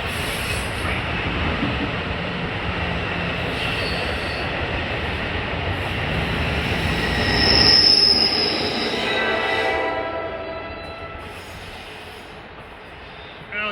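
Amtrak-area commuter train 3850 from Trenton to New York passing a trackside spot in Secaucus/Rutherford, New Jersey: a loud continuous rumble of rolling cars with a sharp high wheel squeal peaking midway, then fading as the train recedes, with faint voices.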